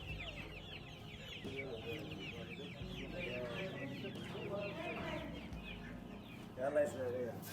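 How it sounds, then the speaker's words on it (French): Quail and small chicks at a Moroccan animal market in Taroudant, with high peeping chirps and clucks repeating steadily amid market bustle while people talk nearby. "Petit poussin, la caille."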